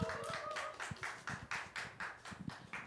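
Applause from a small audience at a parents' lecture encouraging a nervous speaker: a handful of people clap in a loose rhythm of distinct, fairly close claps at moderate volume, with no talking over it.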